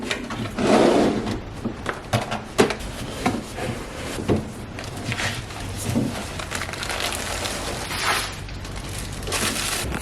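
A household drawer is slid open and shut several times, with scattered knocks, scrapes and crinkling of items being handled and arranged inside, close by and with no speech.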